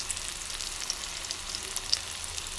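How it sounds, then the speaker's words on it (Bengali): Potatoes and onions fry in hot oil with spices for a snail curry, making an even, close, continuous sizzle with small pops and spits scattered through it. "এবার আলু পেঁয়াজ ভালো করে ভাজা হয়ে গেছে"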